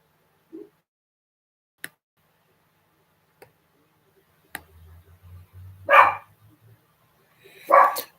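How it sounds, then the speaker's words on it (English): A dog barks twice outdoors at a distance, moderately loud, with brief clicks and a low hum between the barks and no talking. "the dog's being a bit noisy at the moment"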